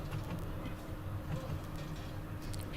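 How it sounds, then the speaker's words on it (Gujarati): A moving passenger train in Gujarat gives a faint, steady low rumble with soft rattling heard from inside the coach. "ટ્રેન પછી ચાલી રહી છે અમારી."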